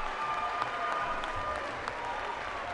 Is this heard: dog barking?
no